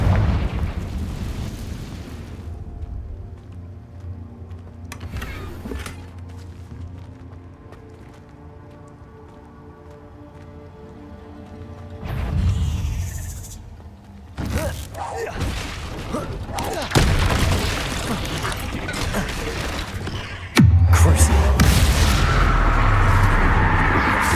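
In Hogwarts Legacy, a Confringo fire spell bursts into a booming explosion with a rumbling, crackling tail, followed later by further heavy blasts and mechanical noise over low game ambience.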